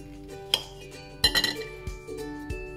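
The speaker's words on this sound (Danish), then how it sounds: "Så skærer du halvt ned i dit jordbær." A knife cuts partway down into strawberry halves for a cupcake garnish, giving a few sharp clinks against a plate or board spaced about half a second apart, close and fairly quiet.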